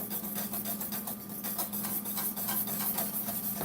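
A whisk scrapes steadily through cornmeal being stirred into polenta in a pot, a quiet, close rhythmic rubbing and rasping with fast repeated strokes and no voices.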